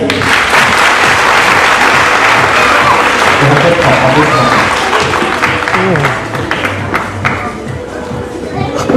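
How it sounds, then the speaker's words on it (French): A crowd at a French stage hypnosis show applauds a participant: loud, dense clapping that holds steady, then thins slightly toward the end, with some chatter and thumps mixed in. "Merci beaucoup, on peut l'applaudir."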